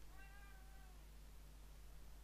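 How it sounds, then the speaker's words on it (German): A single drawn-out cat meow, fairly clear but quiet, fading after about a second over a low steady hum. "Och, Katze, hör auf mich schon zu nerven."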